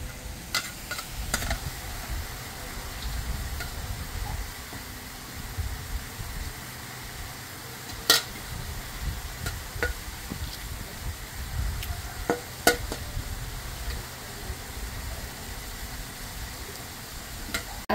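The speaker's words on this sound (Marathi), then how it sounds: "आता आपण हे मिक्स करून घेऊया।" A spoon stirs an ambad prawn fry mixture with tamarind in a pan, a steady soft sizzle with scattered sharp scraping clicks, close and alone without talk.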